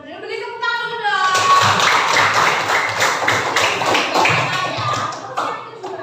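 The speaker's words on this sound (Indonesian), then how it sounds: "Beri tepuk tangan dulu dong" A primary school class of children claps together, brisk close applause that starts after a short spoken line and continues for several seconds with some voices mixed in.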